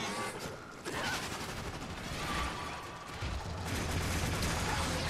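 Continuous gunfire in the Warframe video game during a co-op challenge against a level 120 Juggernaut, dense overlapping shots and bursts filling the whole stretch loudly, with little or no talking.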